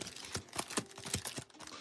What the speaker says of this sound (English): I'm shuffling before putting the hit in.